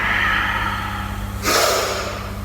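A strong, forceful yogic exhalation during a warm-up: a sharp breathy rush of air bursts out near the middle and fades over about a second, preceded by quieter steady breathing with a low hum underneath.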